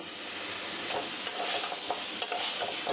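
Banana stem curry is stirred in a pan after ghee has been added, giving a continuous soft sizzle with faint scraping from the stirring. No voice is heard.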